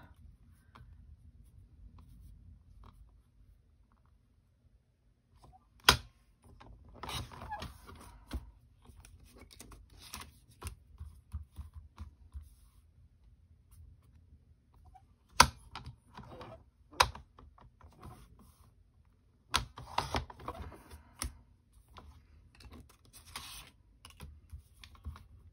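Paper for cardmaking trimmed down to size, probably on a paper trimmer, heard as quiet scattered sharp snips and slides separated by near-silence, with a few stronger cuts.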